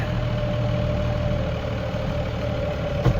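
A tractor engine idles steadily with a low, even hum, with a brief knock near the end.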